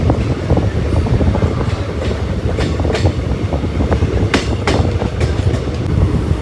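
A passenger train runs through the Nallamala forest near Nandi Halu station, alongside a goods train halted for a crossing. Loud, close wheel noise with a rapid clickety-clack rhythm of rail joints and sharp clanks continues without pause.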